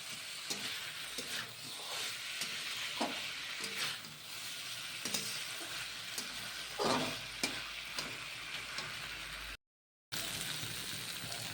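Boiled potatoes frying in a pan for a fish and cauliflower curry, a soft continuous sizzle with occasional stirring scrapes, faint and steady, cut by a brief silent gap near the end.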